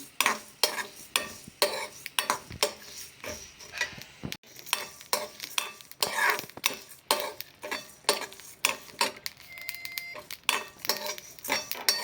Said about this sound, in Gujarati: તેને પણ આ રીતે શેકતા જઈશું।